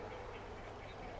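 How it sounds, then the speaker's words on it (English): A duck quacks in the background of the video game Titan Quest, a short soft burst of quacking under a busy noisy game soundscape, faint and without talk. "I thought that bird just came through the teleporter"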